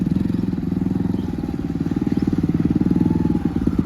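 A motorcycle engine runs close by on a rural village road, its steady rapid low-pitched thrum pulsing evenly and loudly throughout, with no voices over it.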